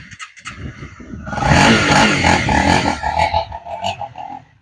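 An enduro motorcycle passes nearby, its engine buzzing and rising to a loud revving roar before fading slightly as it rides on outdoors.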